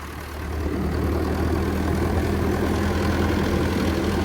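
An old British-made tractor, about sixty years old, runs with a steady, low diesel drone. The engine note rises slightly at the start and then holds evenly, close by.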